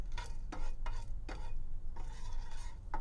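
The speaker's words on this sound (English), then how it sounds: "I just heard a popping sound a couple seconds ago" Whole spices sauteing in hot oil in a pan for a cashew curry, with a continuous sizzle under repeated stirring scrapes and a few faint pops, close by.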